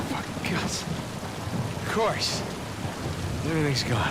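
Steady heavy rain and rolling thunder in the video game Uncharted 4, a continuous downpour under occasional swelling rumbles, with a few brief game sound effects rising over it.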